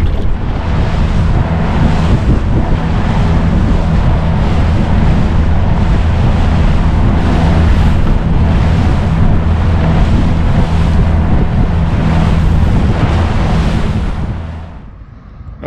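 Strong wind at a seaside boat ramp near Birkenhead, Adelaide, with a heavy swell running: a constant loud roar buffeting the microphone for about fourteen seconds before easing off, with no voices.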